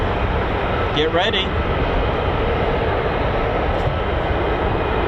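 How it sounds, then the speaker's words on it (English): Lockheed Martin F-35 fighter jets with Pratt & Whitney engines approach a US Air Force base at RAF Lakenheath, a broad steady roar filling the background as someone talks over it. "Yep, definitely F-35s coming now."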